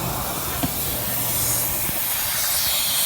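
A truck radiator punctured by a rock hisses and sprays hot coolant in a loud, continuous broadband rush lasting throughout, with a couple of faint clicks and no talk.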